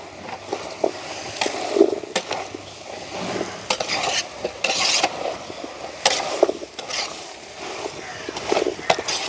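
Vegetables with tomatoes and green chillies are stirred in a pot for village-style biryani: irregular scraping clinks of a spoon against the pan over a soft sizzle, close by, with a voice speaking now and then.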